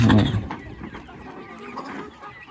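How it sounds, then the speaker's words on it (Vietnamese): Flock of free-range H'mong black chickens, a native breed, clucking nearby, with one louder cluck at the start and softer scattered clucks and farmyard murmur after. "Đây là cái đàn gà hơi mông của em."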